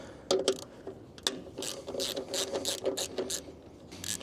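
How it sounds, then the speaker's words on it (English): Quiet, rapid clicking bursts come from a ratchet with a 14mm socket as it breaks six filter cover bolts loose on a Kubota KX033-4 mini excavator, with short pauses between the strokes. "From there, we grab our 14mm socket. We're gonna break these 6 bolts loose."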